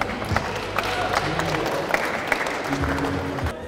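Audience applause for Bakyt Makeev at a crowded Kyrgyz event, a steady wash of clapping that runs throughout with a few sharper claps poking through.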